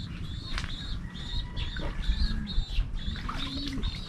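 Young pigeons being bathed flutter and coo nearby, with soft low coos and brief wing flicks amid splashing, while faint higher bird chirps repeat in the background.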